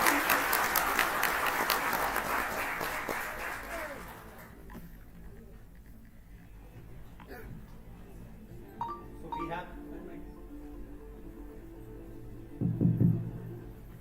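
Applause from the audience at a women's launch event, fairly loud at first and then fading away after a few seconds, followed by quieter room noise and a short burst of sound near the end.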